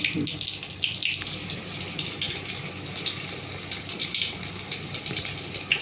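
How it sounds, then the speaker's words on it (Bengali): Eggplant slices frying in hot oil in a wok produce a steady, close, dense sizzling hiss that carries on without a break for several seconds. "এই কড়াতেই এবার মশলাটা কষে খিচুড়িটা ঢেলে দেবো বেগুনটা ভেজে নিই"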